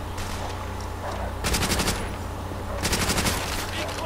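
Bursts of Thompson submachine gun fire in a World at War multiplayer match in the Courtyard map, two rapid volleys of close, loud automatic shots over steady game ambience.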